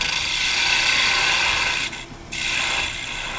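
A carbide woodturning tool rides the bevel against wood spinning on a lathe, making a continuous loud scraping, ratcheting rasp that drops away briefly near the middle and then resumes.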